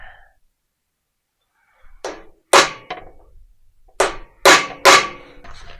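Sharp metallic hammer strikes on a center punch marking a metal shaft, a light tap then several hard blows in an uneven rhythm, close and loud with no talking.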